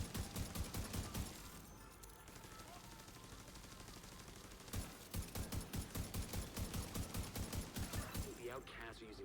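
Rapid volleys of gunfire in The Division 2 video game, two stretches of quick, evenly spaced shots separated by a brief lull, heard fairly quietly against background game sound.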